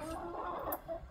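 A black rock hen clucks softly, close by and fairly quiet, with a couple of brief clucks across a short moment and no talk.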